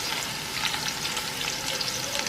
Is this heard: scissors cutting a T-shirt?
no